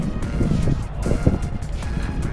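Gusty wind buffets close to the microphone, a steady low rumble with rough bursts throughout.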